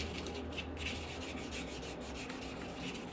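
Natural fingernails buffed with a glass nail file, a soft continuous rubbing scrape close up with no pauses or talk.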